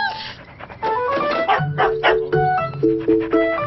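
A dog barks repeatedly in short, uneven bursts, some yelping and whimpery, fairly close and alone over a muffled background, with a cartoon soundtrack feel.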